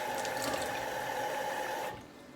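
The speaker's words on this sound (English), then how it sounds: "Okay, add a half cup of water or milk." Water poured into oatmeal, a short steady pouring trickle with a gurgling tone, close and moderately quiet, lasting about two seconds before it stops.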